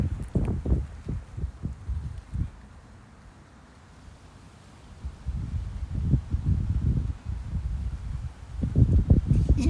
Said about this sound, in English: I apologise about the wind noise in advance because it's properly windy